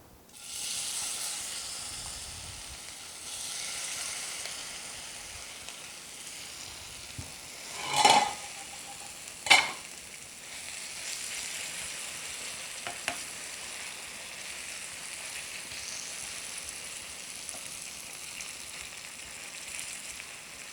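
Dudhi handvo batter, a bottle gourd batter, sizzles steadily in a hot pan as it is spread out, with a soft continuous frying hiss, a few sharp scraping clicks partway through, and no talking.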